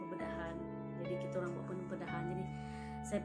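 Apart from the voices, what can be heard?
No distinct noise like a dog, phone or traffic.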